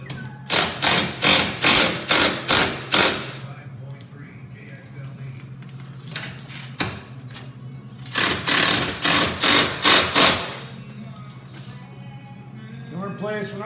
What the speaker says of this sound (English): Helps if you have the right size socket on the impact driver.